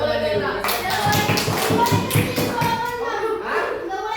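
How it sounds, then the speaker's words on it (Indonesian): Children in a classroom clap their hands in a quick rhythmic pattern, a series of close claps over a murmur of young voices. "Kasih tepuk tangan."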